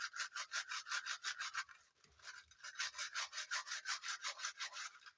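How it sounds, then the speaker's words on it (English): A hard-bristled brush scrubs a knitting machine with washing-up liquid in steady, rhythmic back-and-forth strokes, close and fairly quiet, with a short pause midway before the scrubbing resumes. "I'm going to use a fairly hard bristled brush to give it a good old scrub"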